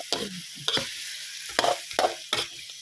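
Pork bones being dry-roasted and stirred in a pan for a Thai curry, with a series of short scraping stir strokes and light sizzling bursts, close and fairly quiet, with no voices.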